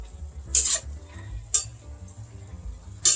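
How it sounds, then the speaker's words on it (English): Garlic with kosher salt sizzles in a pan for a creamy hamburger pasta, a faint steady fry under three sharp metallic taps and scrapes of a spoon stirring against the pan. "Stir that all in. We want this to cook for about 1 minute."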